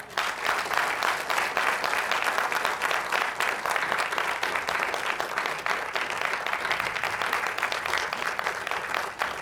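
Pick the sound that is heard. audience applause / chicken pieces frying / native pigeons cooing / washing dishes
audience applause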